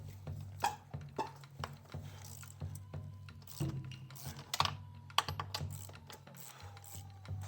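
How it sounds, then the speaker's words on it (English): A ratchet on a 19mm socket working a nut on a Kawasaki KLX230R, giving a close run of quick, irregular metallic clicks and taps over a low background hum. "We're gonna take a 19mm socket here"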